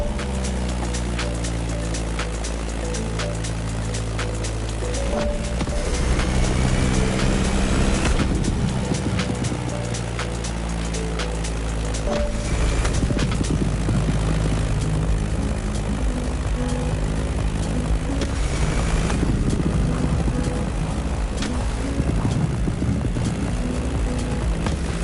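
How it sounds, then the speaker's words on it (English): A Beechcraft Staggerwing propeller biplane flying in the racing game The Crew Motorfest, its engine droning steadily with a pulsing, harmonic hum that swells and eases slightly over the whole stretch. "That Beechcraft Stagger Wing is truly a beautiful piece, isn't it? And a great choice for that flight."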